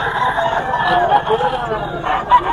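Roosters and chickens at a busy Bocaue fowl market, steady clucking and crowing from several birds nearby, with people chattering in the background.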